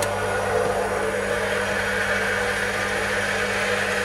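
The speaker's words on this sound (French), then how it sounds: "Le moteur doit démarrer." A household booster pump motor runs steadily with a constant mechanical hum and whir, loud and close, with no break or voices throughout.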